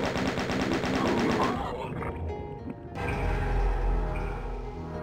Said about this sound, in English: The last one I will just chain gun